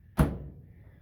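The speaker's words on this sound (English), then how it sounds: "So anyways, door closes," A Samsung dryer door swings shut with a single dull thunk, close and fairly loud, its low thud fading quickly into quiet room tone.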